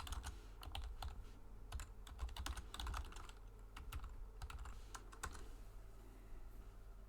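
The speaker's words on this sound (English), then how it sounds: "So what do I type in? Okay, type in Union with England Act 1707." Fingers tap out a search on a computer keyboard, quick irregular clusters of close, light key clicks with short pauses between bursts and no talking.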